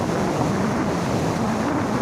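Water pouring down from the opened gates of Khadakwasla dam near Pune after heavy July rains, a steady broadband rushing roar heard from a distance, mixed with wind buffeting the microphone.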